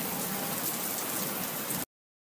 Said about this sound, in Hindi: बारिश धड़ाधड़ हो रही थी